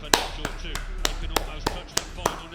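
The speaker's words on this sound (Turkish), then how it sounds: "Bir de kendimi alkışlıyorum." A lone person claps their hands eight times at a steady, unhurried pace, each clap sharp and near, with a faint background hum and no voices.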